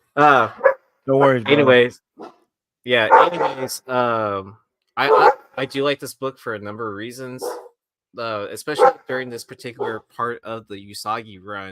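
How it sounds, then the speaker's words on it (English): A dog barks and yips intermittently at home, mostly underneath someone speaking steadily about comic books, with brief gaps in the talk. "Sorry about my dog."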